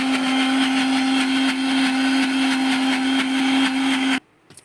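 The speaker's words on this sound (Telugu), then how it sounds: "మిక్సీలో ఎలా ఉంటుందో చూపిస్తాను" A kitchen mixer grinder whirs steadily at high speed while grinding batter for curd vada, a loud continuous motorized drone with a sharp hum that cuts off abruptly when switched off.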